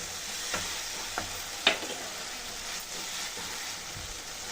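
Curd is mixed into biryani masala frying in a pot, giving a soft sizzle under a few distinct clacks and scrapes of a spoon against the pan, close and moderately quiet, with no speech.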